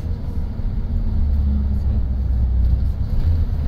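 A car drives through the streets of Morocco near Casablanca, with a steady low engine and road rumble that holds close and even throughout and carries no speech.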